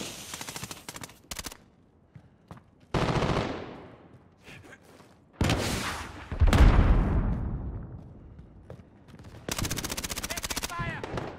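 Call of Duty: Modern Warfare multiplayer gunfire, with loud bursts of automatic fire and single shots coming in separate clusters, some close and sharp, others more distant, against a noisy battlefield backdrop.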